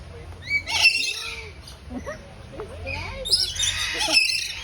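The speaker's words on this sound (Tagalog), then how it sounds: "It's a crown pigeon." Zoo birds, including a crown pigeon, give squawks and chirps in short bursts, mixed with a couple of people talking nearby.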